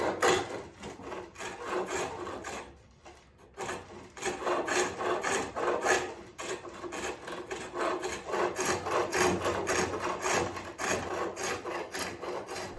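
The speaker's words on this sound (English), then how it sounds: "I'm really not removing my chisel away from the work as it spins backwards" A chisel cuts a wooden desk leg turning on a spring pole lathe, rhythmic rasping strokes pulsing back and forth with a short pause early on, close and moderately quiet, no talk.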